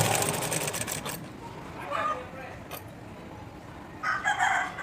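A sewing machine stitches a neck band onto a plain blouse, its whirring coming in short runs over a steady background, with a rooster crowing nearby and faint voices.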